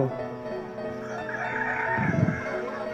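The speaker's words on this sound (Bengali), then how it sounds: "এটা দেখতে পাচ্ছ, মুরগির লড়াই দেখাচ্ছি তোমাদের।" Rooster crowing at a Saturday cockfight and chicken market, one drawn-out crow rising over clucking and general fowl noise nearby.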